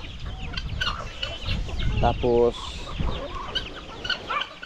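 Backyard farm chickens cluck and chatter close by in a busy flock, with a short rhythmic cackle and someone speaking briefly.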